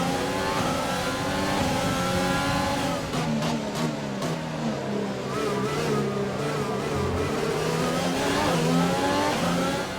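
F1 2020 video game race cars, a loud close engine revving with rising and falling tones as several cars run in a pack, steady and continuous with no speech.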